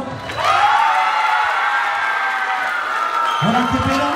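A crowd at an outdoor contest in Lomas del Carril, Temixco, Morelos, cheers loudly, with long high whoops and shouts held over steady crowd noise, and voices break in near the end.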